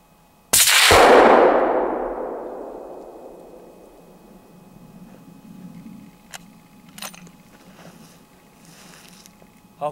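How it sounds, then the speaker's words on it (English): A single sharp clang of a steel reactive target being hit by a suppressed gunshot, ringing out loudly and decaying slowly over several seconds, followed by faint scattered ticks and clicks in a quiet outdoor setting. "the absolute coolest part about using a sound suppressor is shooting reactive targets with no hearing protection required"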